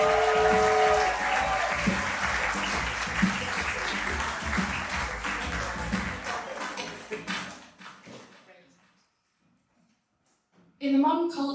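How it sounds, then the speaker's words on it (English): Audience applause at a live stage show, loud and dense for several seconds, then tapering off into near silence before a sudden burst of noise returns at the end. "Keep that round of applause going for Biz coming back to the"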